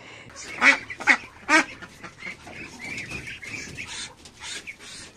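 Several loud, harsh duck quacks close by in quick succession at a duck farm pond, followed by a busy mix of softer calls and splashing outdoor noise.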